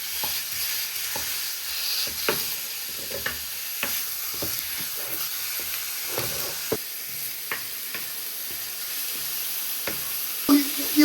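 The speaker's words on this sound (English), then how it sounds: "Throw your mince to your pan with your onion, garlic and peppers." Mince, onion, garlic and peppers sizzle in a frying pan, a steady close hiss broken by scattered stirring and chopping knocks from a spoon.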